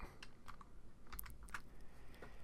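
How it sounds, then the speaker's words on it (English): Computer keyboard keys pressed for a shortcut in a photo-editing program, a handful of quick, close clicks spread unevenly across a short, quiet stretch. "Now if we do the Control-T keyboard shortcut"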